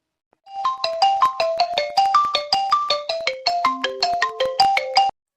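A phone ringtone from an incoming call plays a bright, repeating electronic melody of quick plucked notes for about five seconds, loud and close, then cuts off.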